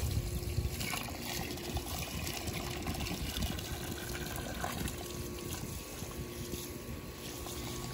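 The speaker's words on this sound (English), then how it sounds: "while I be watering my plants" Water splashes and trickles steadily from a hose onto outdoor plants and trees on a hot day, a continuous close-up wash of dribbling and spattering that runs without a break, with no talking.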